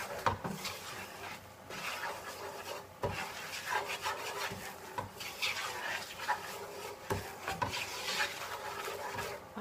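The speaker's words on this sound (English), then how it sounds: "You're just going to keep stirring it." A utensil scrapes and stirs flour in a pan for gravy, a continuous close rubbing and rasping with uneven strokes and no talk.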